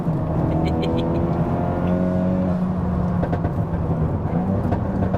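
A 420 BHP Honda Civic Type R FK8 front-wheel-drive hot hatch accelerates hard through the gears, its engine note rising loud and close, with a brief gear-change dip before it pulls strongly again.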